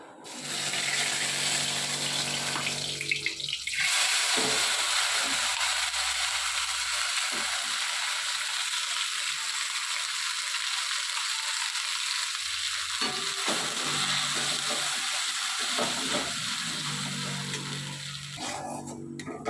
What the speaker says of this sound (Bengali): জিরেটা দেখুন চটপট করে উঠেছে, এবারে আমি মটরশুঁটিটা দিয়ে দেব।